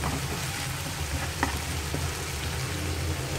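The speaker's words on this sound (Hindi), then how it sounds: "मैंने इसमें डाल दिया वाइट वाली प्याज और हरी मिर्चियाँ। अब इसको थोड़ा सा सौते करना है" White onions and green chillies sauté in a pan over medium flame, giving a steady close sizzle with a brief scrape of stirring partway through.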